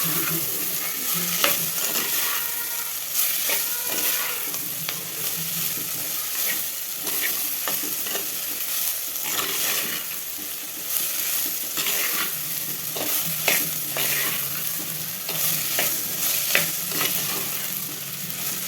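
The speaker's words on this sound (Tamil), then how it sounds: "எல்லாத்தையும் நல்லா வதக்கி விட்டுக்கணும்." Mixed vegetables for a Tamil puli kulambu sauté in a pan, a steady sizzle punctuated by repeated scraping stirs of a spoon against the metal, close and continuous for about nineteen seconds.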